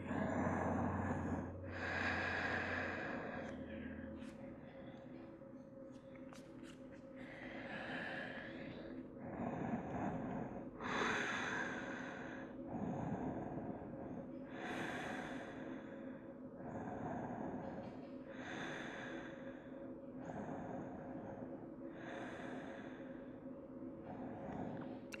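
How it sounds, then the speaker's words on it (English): Slow, deep breathing during a half tortoise yoga pose with the forehead on the mat, a steady series of audible inhales and long exhales repeating every few seconds over a faint background hum, with no talking. "and just breathe."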